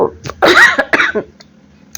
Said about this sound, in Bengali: ওই জন্য কথা বলতে বলতে কাশি এসে যাচ্ছে